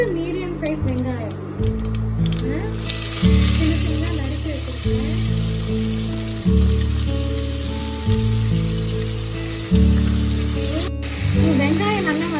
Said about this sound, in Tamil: கொஞ்சம் சோம்பு போட்டு நல்லா பொரிஞ்சு வருது.